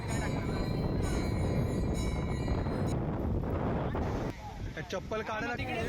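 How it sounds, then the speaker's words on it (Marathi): Strong wind buffets the microphone in a continuous loud roar, with a voice talking over it near the end. "वारा वगैरे जोरात आहे"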